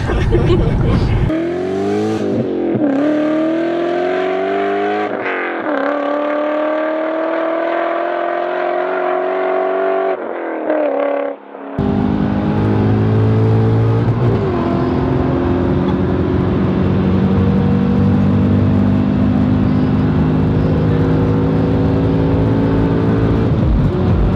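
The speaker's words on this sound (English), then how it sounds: "This car is faster than 430." A sports car accelerates hard, its engine note climbing through repeated rising sweeps with gear changes. After a brief drop it returns as a loud, sustained revving roar, close and dominant.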